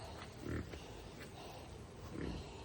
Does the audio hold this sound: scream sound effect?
no